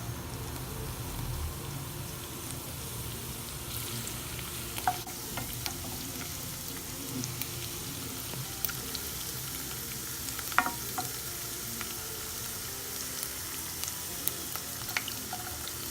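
Steady sizzling of ginger, garlic and green chilies frying in a hot pan, with occasional soft clicks and scrapes of stirring, fairly quiet and continuous.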